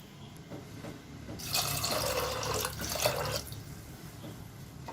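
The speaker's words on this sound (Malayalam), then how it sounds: "ഞാൻ വേറെ സാധാരണ വെള്ളം കൂടി ചേർക്കുകയാണ്." Plain water is poured into a pressure cooker for about two seconds, a bright splashing gush over a quiet background, then it stops.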